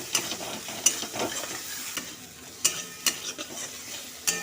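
Spice paste with turmeric and chilli sizzles in a wok, a soft hiss broken by scattered sharp scraping clicks and clatters as it is stirred, close and fairly quiet with no talking.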